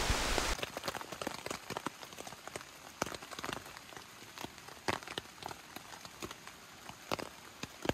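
Heavy rain pattering on a small camping shelter, with dense irregular drops drumming close by, fairly quiet overall and steady throughout.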